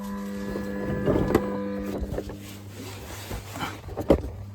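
A Ferrari clutch actuator runs during a clutch-bleed routine, pushing fluid through the system with a steady electric pump hum and a few scattered clicks and knocks, close and moderately loud.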